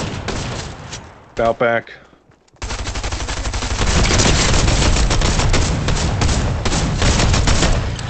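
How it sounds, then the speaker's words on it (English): Sustained automatic gunfire in Fortnite's no-build duos mode, loud and dense, breaking off briefly after a short spoken phrase and then resuming as continuous rattling fire. "I'm getting shot."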